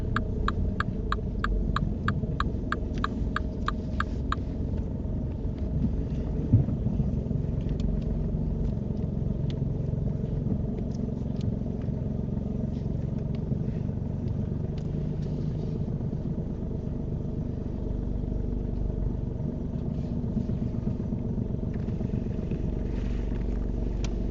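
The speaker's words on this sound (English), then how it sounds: "And then can you drive it into that bay that you reversed into?" A car on a driving test pulls forward into a parking bay, its engine humming and rumbling steadily at close range for the whole stretch, with a rapid ticking at the start like an indicator.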